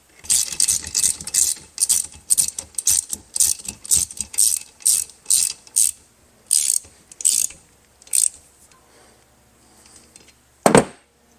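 A ratchet tightening nuts and washers down: rapid bursts of clicking pawl strokes in a steady rhythm, close and loud, pausing near the end before one final sharp clack.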